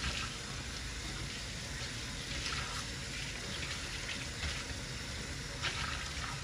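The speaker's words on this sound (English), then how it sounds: "And then what we're going to do is just simply rinse it out." Steady rush of running tap water while a scuba mask is rinsed under it, continuous and close with faint splashing, no voices.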